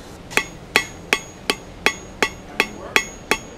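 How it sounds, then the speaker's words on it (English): Blacksmith's hammer blows fall on hot steel being forged into a leaf on an anvil, using the rounded point of the hammer; nine sharp ringing strikes land at an even, steady rhythm, close and loud. "We'll give it a few blows just with kind of the bottom, you know, point on this round, which will work kind of like a ball peen hammer"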